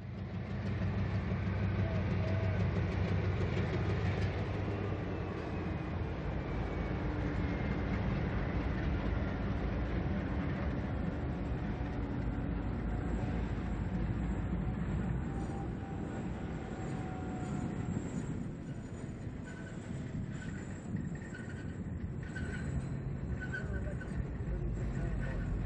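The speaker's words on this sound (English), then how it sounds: "Santa Fe train number 19, the Chief, is slowing for the station stop at Joliet" A long Santa Fe passenger train, the Chief No. 19 with stainless steel cars, slows for its station stop at Joliet, Illinois: a steady rumbling roll of wheels and diesel engine, with faint squeals, continuous and moderately distant throughout.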